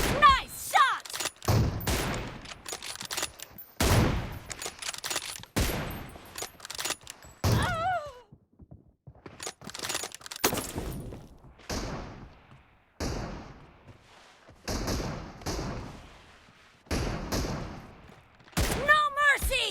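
Gunfire in the mobile battle-royale game PUBG Mobile, with loud rapid bursts and single shots repeating throughout, mixed with game voice lines and player chatter.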